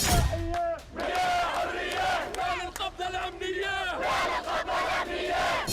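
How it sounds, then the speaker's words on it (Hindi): Thousands of protesters shout angry slogans outside the Israeli embassy in Amman at night, a dense crowd chanting in rising, overlapping bursts heard at a distance. "रात को हजारों की भीड़ ने इजरायली दूतावास को घेर लिया। इजराइल के खिलाफ उग्र प्रदर्शन होने लगा।"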